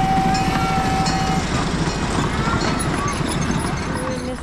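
A small zoo train at Greater Vancouver Zoo rolls along with a steady loud rumble and rhythmic rattling, while people talk over it throughout.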